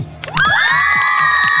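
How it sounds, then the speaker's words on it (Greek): Crowd at an outdoor color festival in Kavala cheering and whooping loudly in a sustained burst, with high shouts and children's voices rising together over a dense roar of the gathered people. "Χειροκρότημα."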